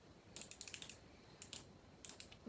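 A small toy clicks in quick bursts of sharp ticking, three clusters of rapid close clicks separated by short pauses, faint against a quiet background with no talk.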